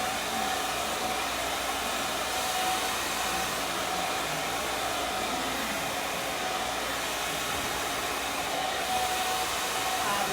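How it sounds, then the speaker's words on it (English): A hair dryer blow-drying thick natural hair treated with butter runs as a steady, even, close whirring roar throughout, with no pauses or talking. "now I'm going to blow dry it"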